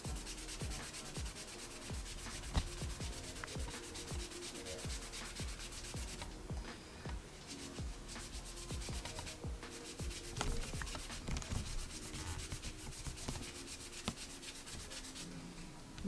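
A wet magic eraser scrubbed back and forth over a cork fishing rod handle, steady rhythmic rubbing strokes, close and quiet, with no talking.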